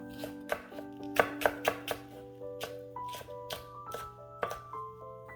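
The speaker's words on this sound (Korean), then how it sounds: "대파는 어슷어슷 써세요." Knife slicing green onion diagonally on a cutting board for kimchi stew, a run of crisp, close chopping taps with uneven rhythm, about a dozen strokes over a few seconds.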